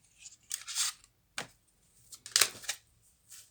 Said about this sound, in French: Elles tombent vite les cartes, hein.